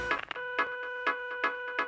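An electronic telephone ring sounds in short repeating bursts of a bright warbling tone, about five pulses in two seconds, fairly quiet and clear with no voices.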